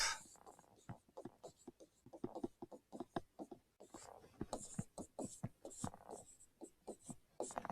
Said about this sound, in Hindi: आप चाहो तो मैं यहां पर वापस लिख देता हूं